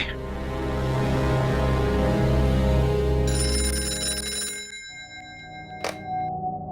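A telephone rings with a bright electronic trill over a low rumbling background, followed by a quieter tone.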